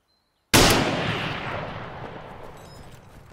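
A single sniper rifle shot in the video game Arma 3 DayZ Overpoch cracks out after a brief silence, then a long rolling echo slowly fades away. No voices.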